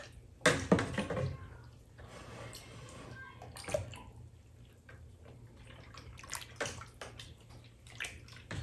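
A fruit bag dropped back into fermenting homemade strawberry wine must, heard as a few close splashes and wet sloshing bursts separated by quieter dripping, with no talk.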